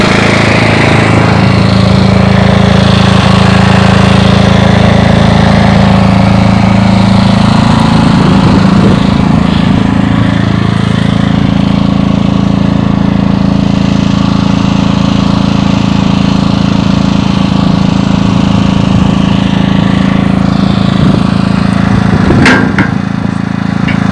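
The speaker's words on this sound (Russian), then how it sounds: "Сейчас будем пилить трубы." Pipes are cut with a loud motorized saw, a harsh, continuous close-up whine and rumble that shifts in pitch as the blade works, with no voices over it.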